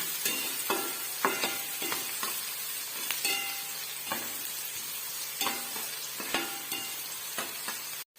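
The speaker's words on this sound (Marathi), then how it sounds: "कांदा चांगला गोल्डन कलर येईपर्यंत तळून घ्यायचा" Onion fries steadily in hot oil while it turns golden for a chicken biryani, giving a continuous close sizzle punctuated by regular scraping stirs throughout.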